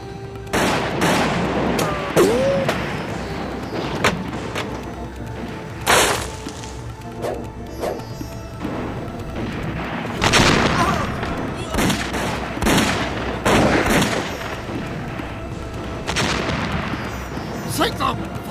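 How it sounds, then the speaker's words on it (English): Cannon broadsides fire from a British man-of-war in a period sea battle, with repeated heavy booming blasts spread across the scene, some in quick clusters, amid shouting voices and battle noise. "Fire a broadside!"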